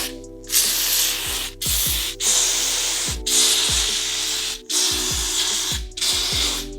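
Repeated short bursts of hair volume spray from a nozzle bottle, about six hisses spaced roughly a second apart, close and fairly loud, applied along the parts of a flat bob haircut with no talking.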